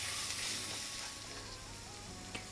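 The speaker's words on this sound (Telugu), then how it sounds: "అలాగే కొంచెం పసుపు వేసుకున్నాం పచ్చివాసన పోయేంత వరకు ఫ్రై చేయాలి" Turmeric with ginger-garlic paste fries in a pan for crispy okra fry, giving a soft, even hiss with a faint tap near the end, quiet and without talk.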